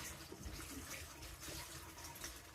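Water runs over loofah sponges as they are rinsed, a steady, faint splashing stream close by, continuous for a few seconds with no talking.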